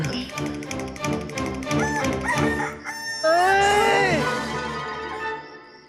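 A rooster crows loudly and close in the morning, one long rising-and-falling call following rhythmic tapping and voices, then trailing off.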